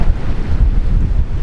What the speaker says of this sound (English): Waves going off.